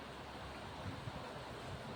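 The swollen Godavari river at Manthani surges past in flood, a steady, dense rushing roar with faint low rumbles and no voices.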